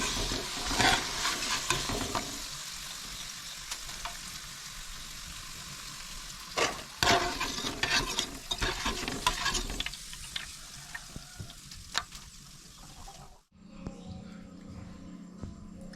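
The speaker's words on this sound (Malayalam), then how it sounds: "അപ്പോൾ അങ്ങനെ പൂള ചിപ്സ് മുഴുവനായിട്ട് വറുത്തെടുത്തിട്ടുണ്ട് കേട്ടോ" Tapioca chips sizzling as they fry in hot oil, Kerala style, with a steady crackling hiss broken by repeated scraping stirs and clinks of a utensil, close and fairly loud, ending abruptly in a quieter stretch.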